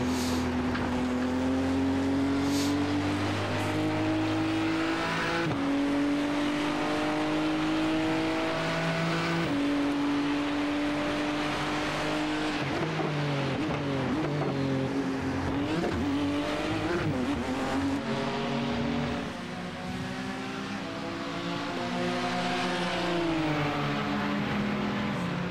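GT race cars at Donington Park in a UK GT round howl past close and loud, engines rising and falling through gear changes as several cars chase nose to tail.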